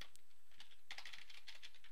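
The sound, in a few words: typing an Excel function on a computer keyboard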